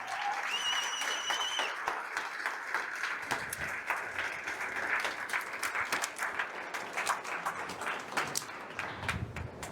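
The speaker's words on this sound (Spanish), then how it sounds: "dale un fuerte aplauso a Dios por eso" A church congregation claps in sustained applause, a dense steady patter of many hands carrying on alone for several seconds at moderate distance.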